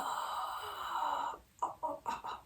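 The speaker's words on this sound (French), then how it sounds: "on entend bien ici, c'est comme la respiration du dormeur" Ujjayi yoga breathing done through the open mouth, a long rasping, hissing breath like a sleeper's, followed by a few shorter voiced breaths, close and clear.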